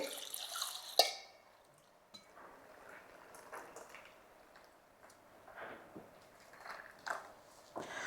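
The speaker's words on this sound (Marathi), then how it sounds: "जरा मी ह्याच्यात पाणी ओतते" Water is poured into a mixer jar, faint and close, with a knock of the jar near the start and scattered splashing and dripping afterwards.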